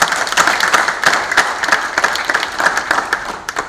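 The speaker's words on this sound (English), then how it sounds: "give a big round of applause to the board and the members of UPRS" A crowd gives a warm round of applause for the UPRS board and members, many hands clapping loudly and close, with a few sharper individual claps standing out.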